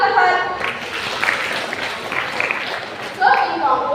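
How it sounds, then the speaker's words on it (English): A classroom of students claps for a classmate, a soft, scattered burst of applause with voices chattering over it, swelling again near the end. "Okay, clap for her."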